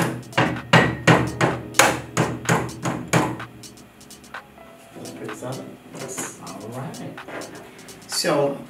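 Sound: mallet tapping on metal

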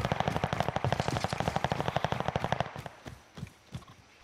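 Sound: gunfire in a video game

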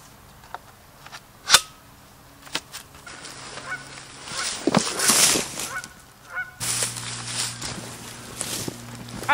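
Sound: geese honking

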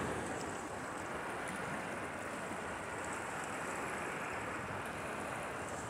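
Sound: river water crashing over rocks

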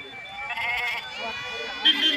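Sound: Kenguri breed sheep bleating

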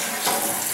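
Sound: flushing a toilet

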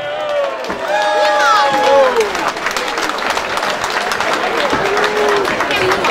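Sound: audience applause and cheering

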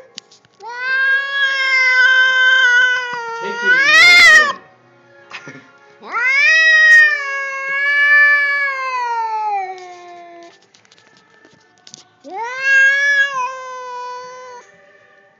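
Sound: cat meowing and caterwauling

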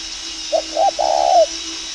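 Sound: young spotted dove cooing

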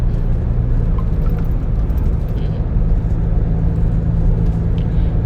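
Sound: car driving on the road

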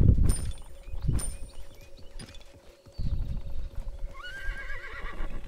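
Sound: horse galloping in video game Realm Royale

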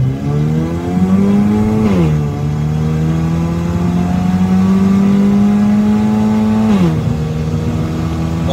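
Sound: Honda Civic FB Turbo accelerating on the road

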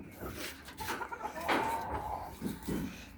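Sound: chickens clucking, rooster kept in

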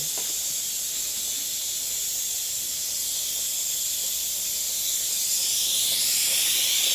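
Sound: pressure cooker hissing while cooking a dish

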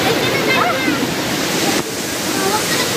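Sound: Gabur Gabur waterfall

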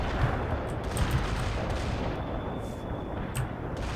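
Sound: artillery barrage in video game World in Conflict

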